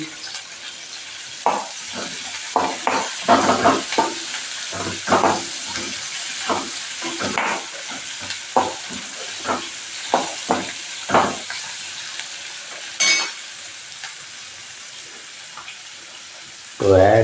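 Onions and garlic sizzle in oil with a steady hiss in the background while a person talks in short bursts over it.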